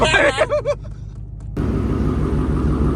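A $2500 Ford Mustang's engine catches and settles into a deep, steady, close rumbling idle after a brief quiet pause, with a person speaking just before the start.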